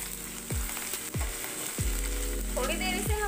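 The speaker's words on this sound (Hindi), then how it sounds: "ऑयल हमारा गरम हो गया है, सबसे पहले मैं इसमें डाल रही हूँ अदरक लहसुन का पेस्ट जिसे मैंने पीस लिया है" Ginger garlic paste and green chilies sizzle in hot oil with a steady, loud crackle, broken by four evenly spaced dull knocks of a spoon or pan, with no talking.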